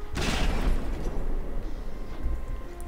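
Fragmentation cannon shell from a CRAM cannon detonating in From The Depths, a loud close blast with a sharp onset and a long rumbling roar that stays heavy through its decay.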